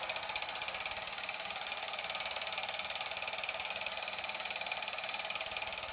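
A battery-powered toy Air Mail helicopter with bump-and-go action whirs and clicks in a rapid, steady mechanical rattle, with a fast repetitive ratcheting pulse and a thin high whine, close and continuous with no talking.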